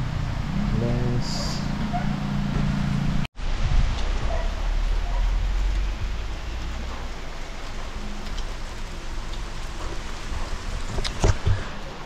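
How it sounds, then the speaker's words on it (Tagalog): Rain falls during a motorcycle ride as a steady, dense hiss close to the microphone, mixed with wind and road rumble, broken by one sudden gap partway through. "Ayan, nabot tayo ng ulan."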